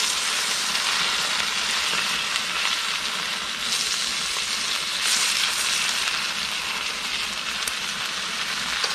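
Chicken breasts frying in butter in a skillet, a loud continuous sizzle and spatter heard up close, steady throughout with slight swells, no talking.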